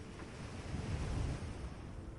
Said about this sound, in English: The waves continue below.